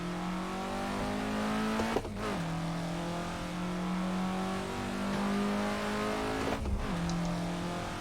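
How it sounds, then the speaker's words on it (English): An Alfa Romeo GTA on a race track at Thomson Road in the UK drones with a steady engine note that climbs in pitch, broken twice by sharp gear-change dips, loud and close throughout. "There's a car approaching."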